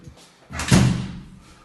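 The main entrance door of a duplex apartment building closes with a single firm thud and brief rattle, close and clear.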